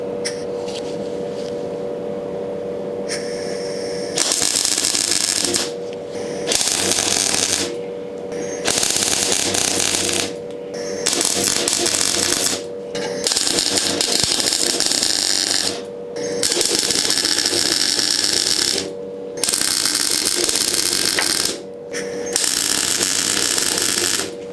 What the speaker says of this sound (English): now I'll get the welder set up and we can have a go at welding this in